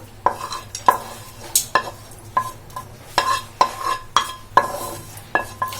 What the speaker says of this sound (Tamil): இப்போ இது எல்லாத்தையும் நல்லா மிக்ஸ் பண்ணிக்கலாம்